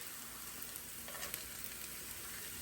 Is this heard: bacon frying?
yes